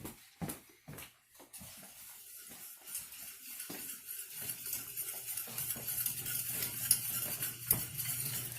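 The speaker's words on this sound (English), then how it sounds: "So as you can see, it's getting a lot thicker. I just stir, stir, stir." A spoon scrapes and stirs through thickening béchamel sauce in a pan, with a few clinks at the start and a low steady sizzle underneath.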